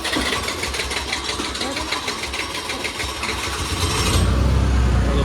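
Honda Activa scooter engine running with a rapid, steady mechanical rattle close by, its tone deepening and growing louder near the end.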